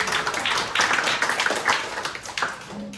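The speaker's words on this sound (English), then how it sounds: "So give yourselves a round of applause." Scattered clapping from a small audience at a jazz camp concert, a few hands tapping unevenly for about three seconds, moderately close with no voices over it.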